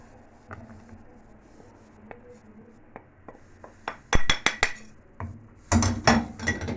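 A spoon clinks and scrapes against a metal pot while flour is stirred into boiled water with a little sugar and salt, starting as sparse light taps and turning into quick, louder clattering strokes near at hand.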